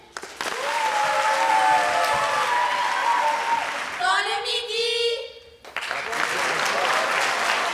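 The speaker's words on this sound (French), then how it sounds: "Vous pouvez les applaudir." Audience applause at a school rugby tournament, loud and sustained, breaking off for a moment while a voice speaks and a chant-like crowd sound rises, then clapping surges back.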